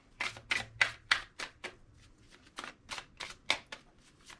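Tarot cards being shuffled by hand in a series of quick riffling bursts, about a dozen crisp papery flicks in uneven rhythm, close and soft, with no talking.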